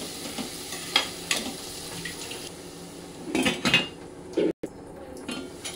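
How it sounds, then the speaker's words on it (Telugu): Onions frying with turmeric in a pan, soft sizzling under clinks and scrapes of a utensil stirring against metal, close and moderately loud with a few sharper knocks. "ఆనియన్స్ని ఒక 1 మినిట్ ఫ్రై చేసుకోండి."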